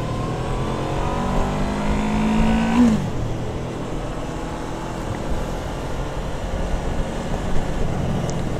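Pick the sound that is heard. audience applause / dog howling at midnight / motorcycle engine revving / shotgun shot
motorcycle engine revving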